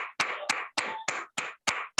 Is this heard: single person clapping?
yes